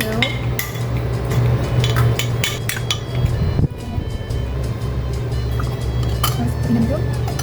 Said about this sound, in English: I gonna put the onion into the sauce and also cilantro and mix it pretty well